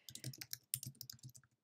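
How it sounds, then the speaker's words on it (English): Rapid typing on a computer keyboard, a quiet, close run of light clicking keystrokes with a short pause partway through. "so if I keep typing"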